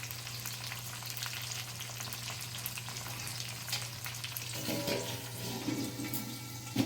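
Tomatoes boiling in a covered pot with chicken curry, a steady bubbling sizzle with a low hum, joined near the end by a spoon stirring and scraping the pot, no voices.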